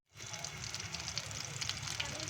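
Shami kebabs frying in hot oil, giving a steady, close sizzle with fine crackling that starts abruptly and holds at an even level throughout.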